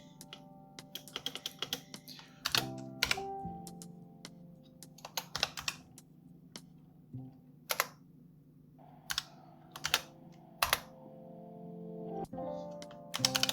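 Someone types code on a computer keyboard in Android Studio, irregular clusters of quiet key clicks with louder taps and pauses between, close and soft with no talking.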